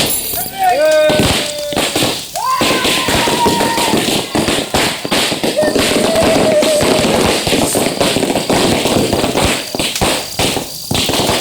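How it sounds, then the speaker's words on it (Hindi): Firecrackers burst in a rapid string of sharp cracks and pops, some with short whistling tones rising above them, continuing loud and close for several seconds with voices faintly underneath. "पटाखे अच्छे नहीं लगते क्या?"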